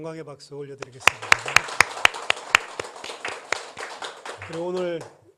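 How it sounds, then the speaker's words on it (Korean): A church congregation at a Korean worship service gives applause, heard as a run of sharp, fairly rhythmic claps that thin out and fade. A leader's voice speaks just before and after. "우리 하나님께 감사 영광의 박수 올려드리겠습니다"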